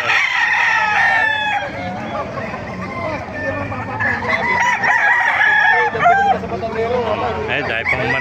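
Several roosters crow repeatedly among clucking fowl at a gamefowl farm, loud and close, with voices and general chatter continuing underneath.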